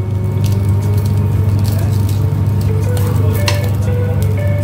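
An egg fries in a hot frying pan, giving a loud, continuous sizzle with soft crackles and a low steady hum underneath, no voices heard.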